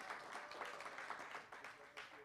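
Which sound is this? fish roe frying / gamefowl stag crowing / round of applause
round of applause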